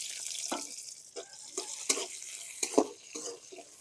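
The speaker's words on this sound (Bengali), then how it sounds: "কড়াইয়ে পরিমাণ মতো তেল দিয়ে এখন কেটে রাখা পেঁয়াজ মরিচ দিয়ে দিলাম" Chopped onions and chillies fry in oil in a wok, a faint sizzle beneath repeated scraping stirs of a utensil against the pan, with a few sharper knocks.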